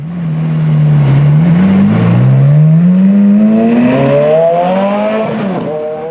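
A Ferrari F430 Challenge race car is driven on a public street. Its engine drones loudly at low revs, then climbs steadily in pitch as it accelerates, staying close and continuous with no speech.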